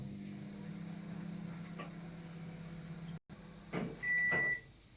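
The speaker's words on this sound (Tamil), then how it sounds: "தக்காளியை ஒரு 1 மினிட் வந்து மைக்ரோ ஆப்ஷன் வைக்க போறோம்." A microwave oven hums steadily while heating tomatoes for one minute, then clicks off, followed by a few clunks and a brief high electronic beep.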